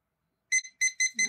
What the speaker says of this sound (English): Oh, that's a beep